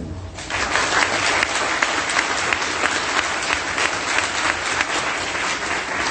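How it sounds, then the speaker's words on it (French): An audience applauds together at a Haitian flag-day gathering led by a pastor, a dense, steady wash of clapping that stays loud and even for about six seconds with no voices on top. "Papa, nous applaudissons pour Dieu."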